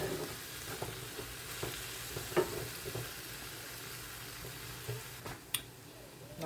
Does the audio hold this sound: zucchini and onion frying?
yes